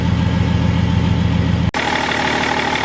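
A BMW 530D E39 diesel engine idles with a steady, loud, low rumble, briefly cut off by a sharp dropout, then idling on with a slightly changed tone.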